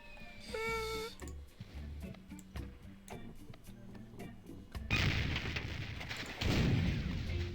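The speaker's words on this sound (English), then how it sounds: "Oh yeah, I've got to shoot the cannon first." Cannon fire in the Monkey Island video game: a rising game tone, then a series of sharp thuds, and a loud booming blast with rumbling noise that swells twice near the end.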